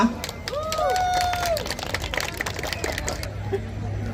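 A crowd at a harvest festival with a bread competition claps along in a continuous patter, with whistle-like tones and people talking mixed in.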